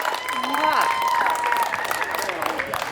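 Pageant audience applauding a contestant at a pin-up competition during a cheese festival, steady clapping with cheers and a host's voice over the crowd.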